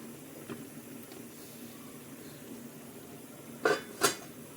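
Potato slices being stirred in a pot of boiling water give a few soft clinks and two sharper metallic scrapes near the end, faint over a steady background hiss.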